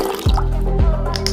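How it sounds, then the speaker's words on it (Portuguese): Water poured into a bowl, a close, loud liquid splashing and dripping with repeated pulses of gurgling fill sound. "vamos colocar água aqui na tigela"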